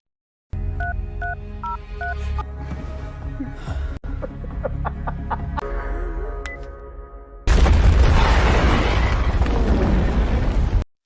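A series of keypad dial tones and clicks, then a sudden loud, roaring explosion that rumbles on for several seconds.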